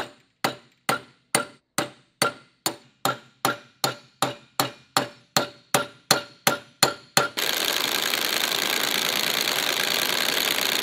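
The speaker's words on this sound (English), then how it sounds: "I'm trying to use the hammer of the impact gun to sort of like bounce the nut off" Impact gun hammering at a stuck nut on a wrecked Ferrari 430 Scuderia rebuild: about twenty sharp, evenly spaced metallic blows over seven seconds, loud and close, then a steady broadband hiss of continuous running.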